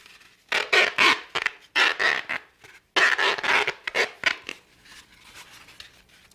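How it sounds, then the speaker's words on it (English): Waterproof tape is pulled off the roll and wrapped around a flower foam cone, giving a close series of sharp ripping and crackling bursts followed by quieter handling. "go back with the waterproof tape and wrap it around the outside"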